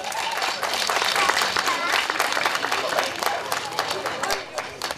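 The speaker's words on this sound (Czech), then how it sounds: "Potlesk prosím" Applause from a crowd at an outdoor summer village fair, with the mayor and parish priest present, rolls on continuously at fairly full volume, mixed with crowd murmur and a few voices.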